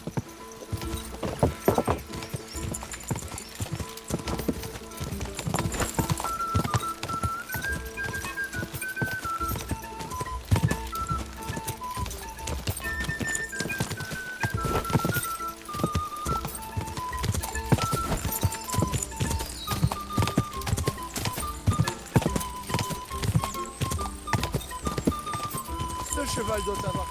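A horse gallops in the medieval video game Kingdom Come: Deliverance 2, its hooves drumming a fast, continuous clip-clop under music and speaking voices, with an occasional whinny.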